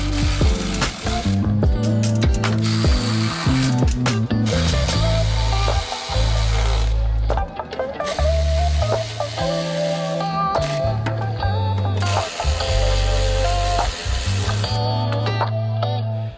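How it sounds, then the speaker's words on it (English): Ratchet clicking as bolts are tightened on a Range Rover L322 Vogue side skirt. The bursts of metallic pawl clicks come loud and close, with brief pauses between runs of turns. "we can put the bolts in and get it tightened into place"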